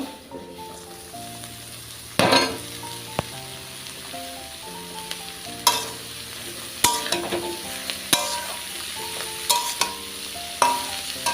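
Hitka shak greens tipped into a hot pan of oil and fried, a steady loud sizzle broken by sharp scrapes and clatters of stirring at irregular intervals, with faint background music.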